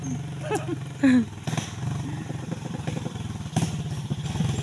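A motorcycle passes close by on a narrow rural road, its engine a steady rumbling drone with brief louder bursts, while other rustling and clattering noises sit in the background.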